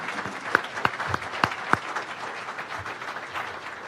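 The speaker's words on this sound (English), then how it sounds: "Let's give her an applause here." Audience applause at an alumni award dinner, honoring a state representative: a few loud, distinct claps stand out above a quieter spread of clapping that soon thins out and fades.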